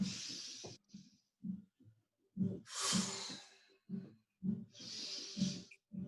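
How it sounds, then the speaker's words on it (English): Warrior-pose yoga breathing: three long, airy breaths, close and quiet, separated by pauses, over a soft rhythmic low thudding, with no talking. "bring in your breath"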